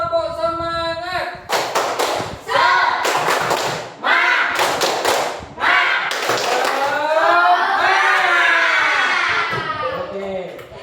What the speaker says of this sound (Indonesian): Ayo semuanya tepuk semangat.